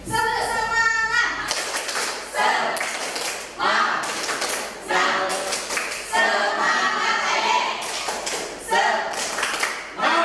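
A classroom of students performs rhythmic spirit clapping (tepuk semangat), bursts of clapping in a patterned beat alternating with children chanting along, loud and close in the room.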